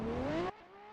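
A Ferrari drift car's engine revs high and rising at a competition, a loud close wail that cuts off abruptly halfway, then a fainter tone continues.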